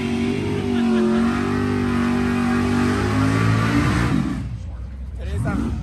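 A car engine revs and pulls while driving, loud and close, the pitch rising and falling before easing off near the end, with people talking over it.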